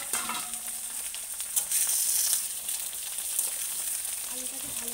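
Potatoes frying in a pan, a continuous bright sizzling hiss that swells briefly near the middle, close and steady with a few faint clicks.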